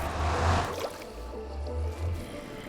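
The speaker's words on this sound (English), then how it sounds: "Why was there bubbles?" Underwater bubbles in the Minecraft video game gurgle as a low, soft burbling that swells near the start and again around the middle, with no voices.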